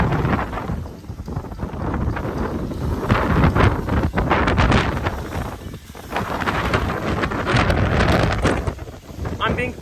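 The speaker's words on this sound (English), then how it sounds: "It's that windy outside." Strong gusty wind buffets a phone microphone outdoors at Virginia Beach, loud roaring surges that rise and fall continuously, with brief lulls, alone without talk.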